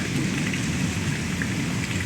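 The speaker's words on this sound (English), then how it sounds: "Still pouring rain." Heavy rain pours steadily during a severe thunderstorm in Pittsburg, Kansas, a dense, continuous loud hiss with a low rumble of thunder underneath and no voices.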